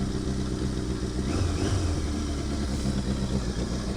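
A Yamaha XJ650 Turbo motorcycle engine idles on choke while warming up, a steady close rumble with slight unevenness and mechanical clatter, no speech.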